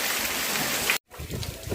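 Steady rain falls over a street where a festival pavilion is being decorated under a tree, a continuous broadband hiss that cuts out briefly midway and resumes more softly.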